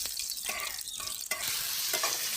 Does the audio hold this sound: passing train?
no